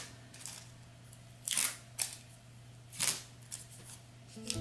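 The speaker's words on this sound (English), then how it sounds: "so we're just going to remove the tape." Masking tape peeled off two pieces of plush fabric just stitched together along a tack-down line for a Santa hat, heard as a few short, crisp ripping bursts separated by quiet pauses.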